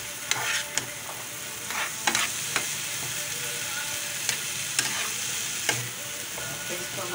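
A spiced breakfast mixture with salt and red chili sizzles in a pan under a steady frying hiss, punctuated by several sharp clicks and scrapes of a spoon stirring against the metal.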